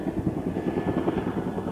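A helicopter passes overhead, its rotor chopping in a fast, even pulse that stays steady and fairly loud for a couple of seconds with no talk over it.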